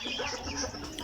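Cornish Bantam chickens in a small backyard coop with a soil floor, heard as a brief burst of soft clucking and muttering close by.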